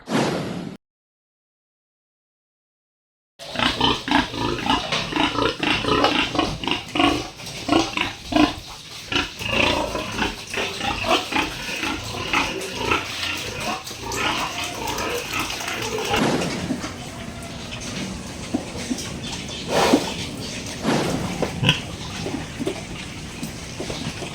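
Pigs on a farm grunting, oinking and squealing almost continuously at close range, a busy, loud chorus of animal noise after a brief silent gap near the start.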